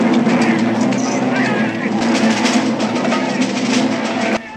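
A train rolls along the rails with a dense, continuous rumble and clatter from a steam-era passenger train during World War II, while someone narrates loudly over it throughout.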